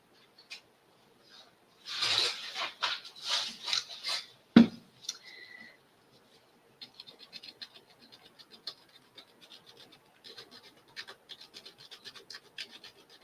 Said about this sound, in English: Actually, not sandpaper. I actually have a small sanding tool.